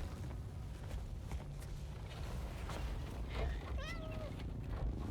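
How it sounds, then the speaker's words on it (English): In the video game Death Stranding 2, a cat lets out a brief, quiet meow amid soft ambient game sound and faint creaks. "Cat? He came to visit me in my room."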